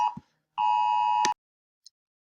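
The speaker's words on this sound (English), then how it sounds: "It was my phone going off, an Amber Alert." A phone sounds an Amber Alert as one loud, steady electronic tone lasting under a second, close by, followed by a faint click and a small chirp in otherwise quiet surroundings.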